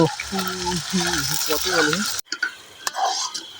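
Chopped onions sizzle and crackle loudly in hot oil in a pan at a Holi home cooking session, with a spoon scraping and stirring through them before the sound cuts off, followed by quieter clinks and faint kitchen noise.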